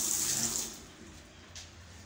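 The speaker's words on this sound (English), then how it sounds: "water is running right here" Water running from a tap into a washroom sink in a bedsitter apartment, a steady soft hiss that is louder at first and then settles to a quieter flow, with no talking.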